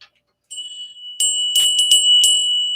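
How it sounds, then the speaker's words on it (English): Small hand bell rung during a Hindu puja to the goddess Kali, bright metallic strokes in several quick shakes after a brief pause, clear and close with a sustained ringing tone. "And then the bell."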